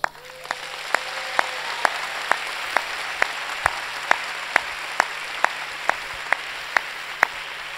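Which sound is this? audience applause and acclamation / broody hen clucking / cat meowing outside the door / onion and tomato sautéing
audience applause and acclamation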